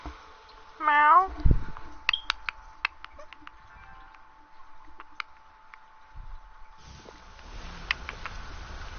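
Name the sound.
cat meowing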